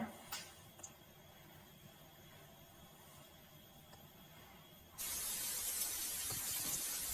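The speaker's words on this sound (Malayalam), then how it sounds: "ഇഞ്ചി വെളുത്തുള്ളി ചതച്ചതും കൂടി നന്നായി വഴറ്റുക." Crushed ginger and garlic with chopped onion hit a hot pan and break into a sudden, steady sizzling hiss after a few quiet seconds. The sizzle is close and continuous. No one talks.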